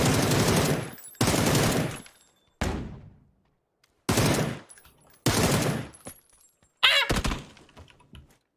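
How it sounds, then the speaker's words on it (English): Shotgun blasts in PUBG Mobile, about six loud, close booming shots spaced roughly a second apart, each followed by a short decaying tail and silence. "are you using a shotgun from that far?"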